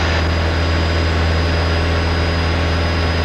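A small training airplane's engine runs at full power, a loud, steady droning roar with a deep low hum that fills the cabin without letup, and no speech.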